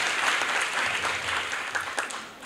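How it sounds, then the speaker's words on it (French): Audience applause fills an amphitheatre during a masterclass at ISEP Diamniadio, a dense, steady patter of many hands clapping that eases slightly toward the end, with no voices over it. "Et je voudrais qu'on les applaudisse encore une fois."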